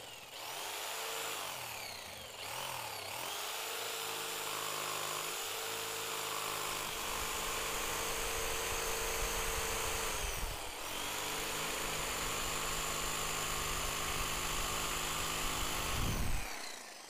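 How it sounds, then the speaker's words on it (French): A jigsaw buzzes continuously while cutting a circle in wood, its motor droning loud and close with brief dips in pitch as the cut progresses, then stopping. "Placez votre scie sauteuse et découpez votre cercle."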